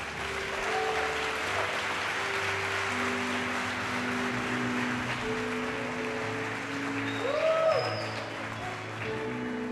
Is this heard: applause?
yes